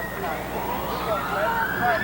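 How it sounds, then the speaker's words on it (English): Ambulance sirens wailing past during a high school baseball game, heading to a car crash on an expressway, a rising, sweeping tone in the middle distance under steady commentary talk. "all those ambulances you hear going by from an auto accident out on the Edens Expressway"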